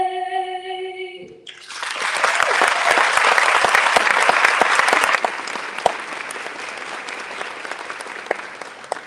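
Loud, sustained applause from a school audience at a welcome reception, dense clapping swelling after a brief sung note and then continuing steadily before tapering slightly.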